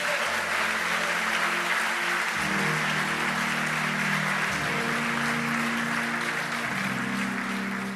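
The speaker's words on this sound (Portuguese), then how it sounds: "Você pode aplaudir o Senhor" A church congregation applauds during a Portuguese-language sermon, a steady wash of clapping throughout with low sustained organ or keyboard tones shifting underneath.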